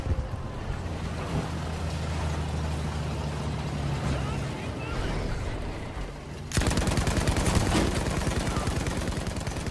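A tank-mounted gun fires in Battlefield V on the Iwo Jima conquest map: a continuous rumbling roar of rapid automatic fire that suddenly grows louder and sharper partway through, amid engine and battle noise.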